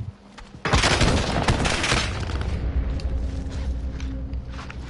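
Video game gunfire: a sudden loud burst of shots with a booming, rumbling tail that stays dense and sustained for several seconds before easing off, with mechanical clatter underneath.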